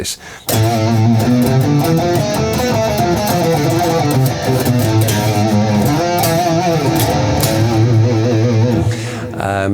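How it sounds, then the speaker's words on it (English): A harmonic minor scale is played on a sustained, tonal instrument, notes moving steadily up and down with rich harmonics, loud and continuous. "That's the sound of the harmonic minor scale."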